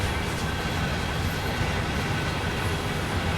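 A long freight train of cement, box and chemical cars in Train Sim World 2 creeps along on the Sherman Hill line, giving a dense, loud, steady rumble and roar with faint wheel noise.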